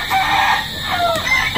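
Chickens clucking with a rooster crowing nearby at a rural Visayan village spot, a fairly loud, continuous fowl chorus filling the short moment with no talk.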